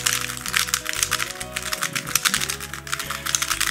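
A MoYu WeiLong WR M speed cube being turned rapidly and continuously, producing dense, fast clicking and clacking of plastic layers, loud and close, alone without speech.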